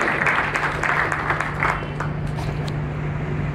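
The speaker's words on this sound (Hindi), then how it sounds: "हम उनको अप्रिशिएट करें अपनी तालियों की गूंज के साथ" Audience applause at a business presentation in Pakistan, a dense steady wash of clapping across the room with a low hum underneath, fading slightly toward the end.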